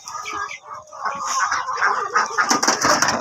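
Chickens clucking and squawking close by on a poultry farm, a busy overlapping chorus of short calls with some faint background voices.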